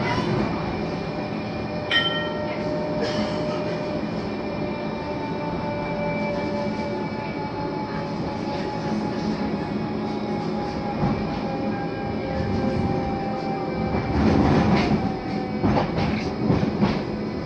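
Blackpool tram rolling between stops toward Fleetwood Ferry, a continuous interior rumble with rhythmic wheel clatter, faint squeals and a louder rattling passage near the end.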